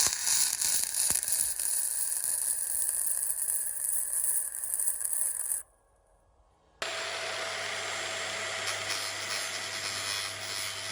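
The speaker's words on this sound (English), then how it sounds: "it's just a matter of tacking it carefully in place and making sure that I do stitch welds all throughout the pipe" Welding a steel pipe, tacking and stitch welding, gives a steady loud crackling buzz for about five seconds, a brief silent gap, then a second continuous crackling weld with a low steady hum beneath it.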